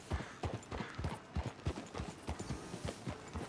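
Horse hooves clip-clop at a steady walking pace in Red Dead Redemption 2 as a rider comes into the town of Rhodes, with even, close, moderately loud beats and no talk.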